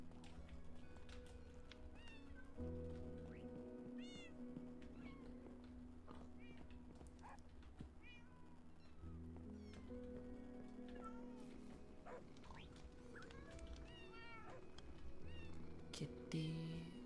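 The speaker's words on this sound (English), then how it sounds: "Kitty." Several short rising meows from a cat in a Minecraft game, repeated over a steady low in-game hum with occasional clicks, faint in the mix.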